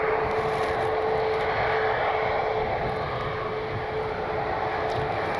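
A Southwest Airlines Boeing 737 MAX 8 jet airliner roars at Cleveland Hopkins airport, a loud, steady engine rush with a sustained whine that holds through the whole stretch.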